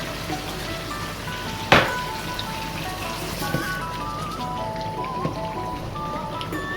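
Tomatoes and green chillies tipped into a hot karahi of frying balti chicken curry, with one sharp splash-like hit followed by a steady crackling sizzle that continues throughout.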